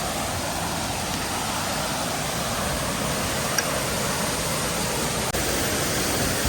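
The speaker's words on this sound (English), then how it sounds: "Gots to check out this waterfall." A waterfall roars as a dense, unbroken rush of water that stays loud and even throughout, with only a couple of faint clicks on top.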